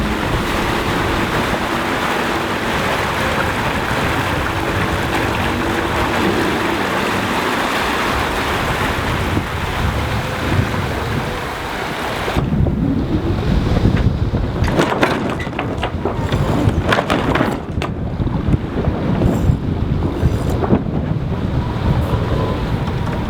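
A sailboat heads into the Atlantic through a nasty chop of waves running against the current. Steady rushing water and wind buffeting the microphone carry on throughout, growing louder and more turbulent partway through.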